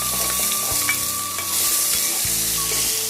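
Small shallots and green chillies sauté in a hot pan, with a loud, steady sizzle and occasional stirring scrapes close by and no voices.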